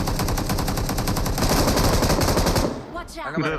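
Rapid automatic gunfire in the PUBG Mobile battle game, a loud, dense burst of shots lasting nearly three seconds before a brief lull and a few trailing sounds.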